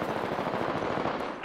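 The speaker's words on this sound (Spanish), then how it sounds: "Me disparan." Rapid automatic gunfire in Apex Legends, a fast continuous rattle of shots that is loud and close throughout, ending with a brief sharper sound at the very end.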